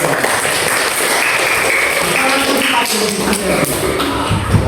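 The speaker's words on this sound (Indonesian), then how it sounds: "Tepuk tangan untuk kelompok 2." Classroom of fifth-grade students clapping for a student group that has just finished presenting on zakat, steady dense clapping throughout at close range with some taps and shuffling and faint voices mixed in.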